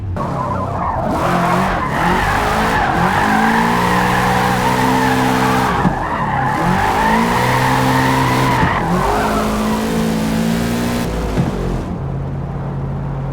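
Car drifting in Forza Motorsport, with softened front suspension and stiffened rear: loud, continuous engine revving with sweeping pitch rises and falls, layered over sustained tire squeal and skidding throughout, alone without talk.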